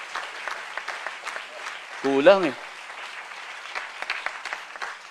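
A church congregation claps together during a Sunday sermon, a sustained broadband patter lasting the whole stretch while a man's short spoken word cuts through in the middle.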